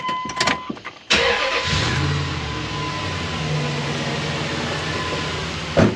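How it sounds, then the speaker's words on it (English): A 2000 Dodge truck carrying a 2005 4.7 engine cranks briefly, fires up, and settles into a steady, close idle that runs evenly to the end. "truck fires right up and runs"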